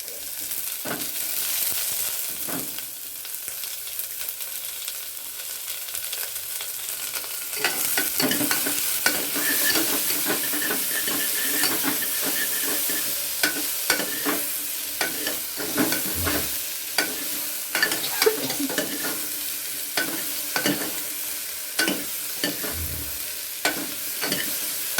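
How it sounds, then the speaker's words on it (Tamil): Potatoes sauté in a pan to golden brown with a continuous sizzle, broken by frequent scraping and clattering stirs of a spoon against the pan. "நல்லா இப்படியே கொஞ்சம் வதக்கிட்டு கொஞ்சம் கோல்டன் ப்ரௌன் கலர் வரணும்."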